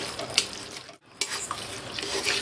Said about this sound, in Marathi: गूळ पाकासारखं होईल ना तवर हलवायचं.